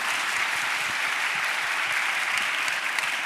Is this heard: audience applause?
yes